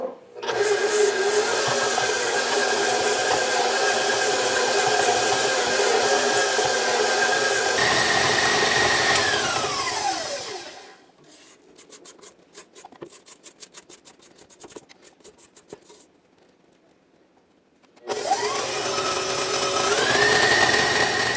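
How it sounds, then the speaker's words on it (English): An electric mixer beats butter and sugar on high for cookies-and-cream cookie dough, a loud, steady motor whine that winds down, gives way to quiet scraping and clicks, then starts up again. "We're going to mix this or beat this on high until it's light and fluffy"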